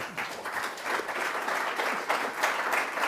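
A debate audience applauds steadily, many hands clapping at once in a dense, even patter that holds for a few seconds.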